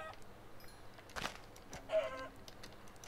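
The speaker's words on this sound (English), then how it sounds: "Kill a couple more chickens so I can get more feathers." Chicken clucks sound in a video game, a couple of short, quiet clucks over a faint background with soft scattered game noises.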